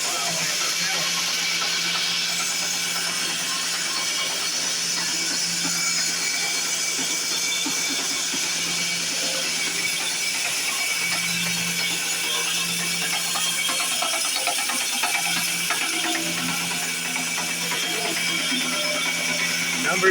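A massive ship engine at a museum starts up with its pistons turning, giving a steady mechanical rumble and rhythmic churning. A person talks over it throughout.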